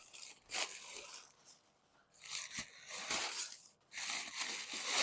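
Packaging around powder-coated tractor cab steps is torn open up close, several loud ripping and crinkling bursts separated by short quiet gaps.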